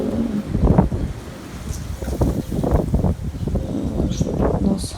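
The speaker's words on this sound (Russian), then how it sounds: "И сегодня ветром всю эту шелуху по всему огороду носит." Strong wind gusting across an outdoor vegetable garden, heard as heavy, uneven rumbling buffets of wind noise against the microphone with faint rustling in between.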